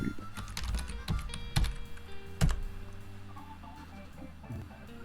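Keys clatter on a computer keyboard as hotkeys are pressed while drawing a KiCad Eeschema schematic, with quick irregular clicks and a few louder, sharper taps close by.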